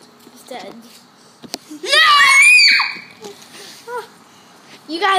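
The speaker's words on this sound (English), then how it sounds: "You guys love my screams, don't you?" A boy screams loudly outdoors, one sustained shrill scream of about a second set among quieter bursts of a voice.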